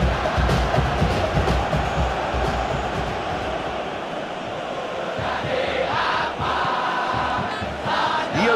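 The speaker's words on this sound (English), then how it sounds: "The crowd appreciates good football all round there" Stadium crowd in a virtual Indonesian league football match, Borneo FC Samarinda against Arema FC, a continuous roaring wash of fans with swelling cheers, steady and loud throughout.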